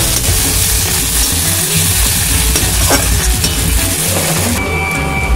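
Ginger-garlic paste fries and is stirred in a pan for aloo dum, with a steady, loud sizzle and continuous scraping stirs. Faint clinks of utensils come in near the end.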